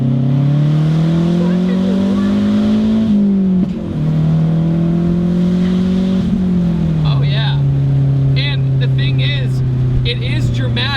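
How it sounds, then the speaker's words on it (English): MazdaSpeed6 turbocharged four-cylinder pulls hard under acceleration, a steady rising drone with a brief dip around a gear change, turbo whoosh and spool layered over the engine note, close and loud throughout. "The drama is in the sound in the turbo spool"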